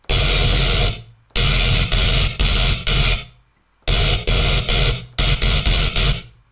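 A harsh, noisy wavetable dubstep synth plays with no filter. Loud, full-spectrum bursts repeat in a choppy rhythm, with short sustained blasts and quick stabs separated by abrupt silences.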